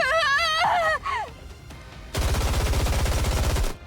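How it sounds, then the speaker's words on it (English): A rapid automatic gunfire barrage in the game Goddess of Victory: Nikke, loud and dense for about two seconds after brief synthetic tones and a muffled pause. "You unleash a barrage of bullets in a frenzy."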